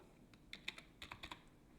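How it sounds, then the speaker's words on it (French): Keys pressed on a computer keyboard, a quick run of about eight crisp, light clicks and taps in two short bursts, close and fairly quiet, with no voices. "Et là, vous appuyez sur entrée."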